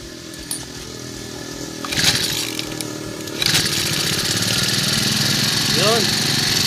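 A Robin grass cutter's small two-stroke engine runs at idle after fuel system cleaning and a spark plug job, a steady buzzing drone with a couple of brief revs; voices talk faintly over it.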